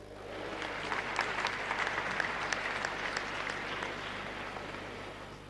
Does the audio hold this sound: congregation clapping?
yes